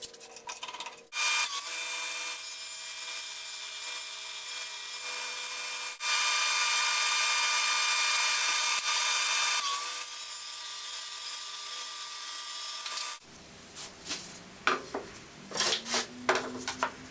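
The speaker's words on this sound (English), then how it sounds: "So yeah, so we'll just rip the two side pieces and the base." A table saw cuts through MDF side pieces, a loud sustained high whine under load for about twelve seconds, then the blade spins down and scraping handling noises follow.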